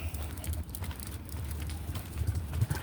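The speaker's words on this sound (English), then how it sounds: "Here comes the little horse." Faint rhythmic clip-clop of hooves on a hard surface, steady and moderately close, with low background rumble.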